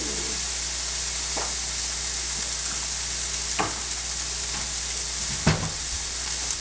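Steady broadband sizzle of food frying in a pan for an Asian stir fry, with a few sharp clicks of stirring or scraping breaking through the constant hiss; no talking.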